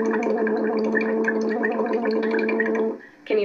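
A steady voiced hum blown through a straw into about an inch of water, making a bubbling, gargle-like buzz with a clear tone that stops abruptly near the end.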